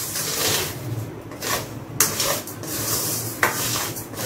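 Spoon stirring rice kheer in a pot, repeated scraping and rubbing strokes against the pot bottom with a couple of sharp metallic knocks, close and fairly loud with no talking.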